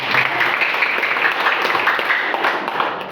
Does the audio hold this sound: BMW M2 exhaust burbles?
no